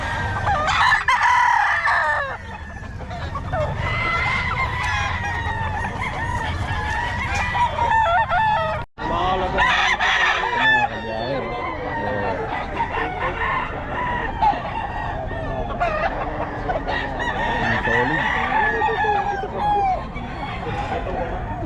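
Several roosters crow over and over, their calls overlapping near and far, with some clucking and background chatter from a farmyard in the Philippines where roosters are being sold.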